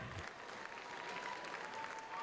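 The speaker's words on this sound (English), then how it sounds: "applause for that" An audience at an indoor high school track meet claps steadily through an on-field interview, a dense, even wash of applause throughout, with a voice faintly underneath.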